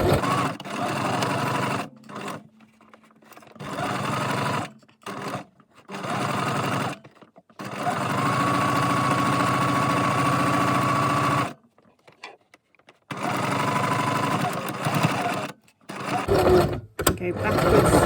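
A sewing machine stitches a drawstring rucksack in repeated bursts of rapid whirring, separated by short pauses, close and fairly loud.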